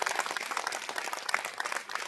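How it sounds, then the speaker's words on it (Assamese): Audience applause at an Assamese cultural procession event, a steady dense patter of many hands clapping throughout, fairly loud and continuous without voices on top. "সকলোৱে এটা জোৰদাৰ হাত তালি হ'ব লাগে"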